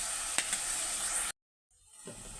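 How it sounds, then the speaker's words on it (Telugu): Onions frying in oil in a pan give a bright, steady sizzle with a couple of stirring clinks, then cut to a sudden short silence before the sizzle returns more softly. "ఆనియన్స్ అయితే చక్కగా వేగేంత వరకు అయితే ఉంచేసుకోవాలండి"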